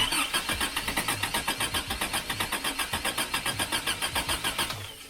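A rebuilt Toyota 22RE engine cranks over with its distributor timing slightly off, giving steady rhythmic starter pulses for about five seconds before cutting out, with no catch or idle.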